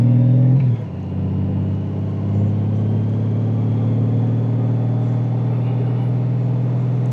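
A group of almost 20 motorcycle riders gathering for a highway group ride, heard as a loud, steady low engine rumble that dips briefly after an initial rev and then holds a continuous idling drone.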